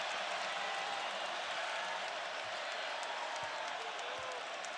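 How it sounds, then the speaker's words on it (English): Basketball arena crowd at an Ohio State vs Notre Dame men's game, a steady, dense wash of cheering and applause that holds at an even level throughout. "Crowd gets animated on that one."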